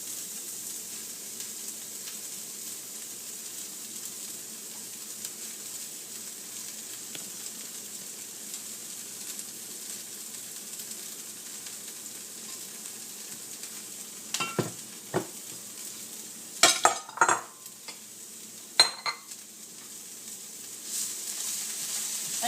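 Garden greens sizzle and stir in a hot pan, a soft continuous frying hiss with several sharper clattering bursts as they are turned.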